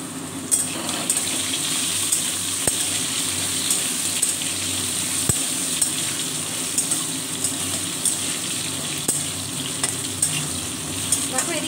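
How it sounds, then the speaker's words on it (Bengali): Potatoes fry in a pan for aloo paneer curry, giving a steady close sizzle with occasional sharp clinks from stirring. "দেখো এদিকে আলুটা ভাজা হয়ে গেছে"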